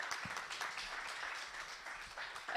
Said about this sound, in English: I'd like us to give a round of applause to Group 1.